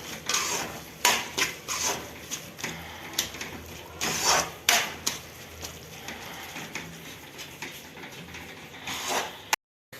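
Khoya (mawa) stirred into carrot halwa in a pan, a spoon scraping and clinking against the metal in an irregular run of close, fairly loud strokes over steady background noise.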